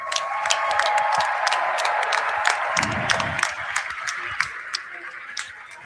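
Scattered clapping from a crowd at an NFL Draft event, a patchy burst of applause with some hands dropping out toward the end, heard at moderate distance.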